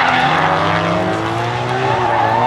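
Drift cars, including an R34, battle head to head around a smoky race track. Loud engines roar close and continuous, with rising and falling revs and tyre noise and no voices.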